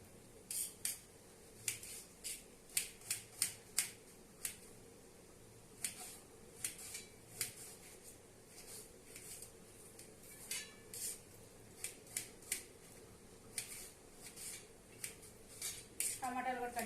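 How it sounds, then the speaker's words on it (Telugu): Onions being chopped for a curry in a home kitchen, a sharp knife striking the board in irregular bursts of quick close taps, fairly quiet, with brief pauses between runs. "ఆనియన్స్ అయితే కట్ చేసుకుంటున్నా కర్రీకి"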